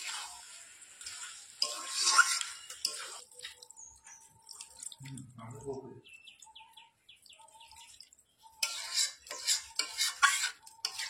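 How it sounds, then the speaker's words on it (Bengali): Fried potatoes being stirred into chicken in a pan over a wood fire for curry, heard as bursts of scraping and stirring with quiet gaps, while birds chirp faintly outdoors. "ভেজে রাখা আলুটা এখন একটু দিয়ে দিয়েছি, দিয়ে একটুখানি ভালো করে কষিয়ে নিচ্ছি"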